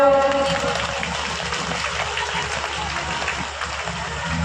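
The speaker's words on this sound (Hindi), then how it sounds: "आप लोग ताली बजाओ।" Worshippers at a Hindu devotional ceremony for Ram clap steadily together, producing a dense, continuous wash of applause with faint music underneath.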